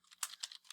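Typing on a computer keyboard: a short burst of about five or six soft, close key clicks in quick succession, alone with no talking.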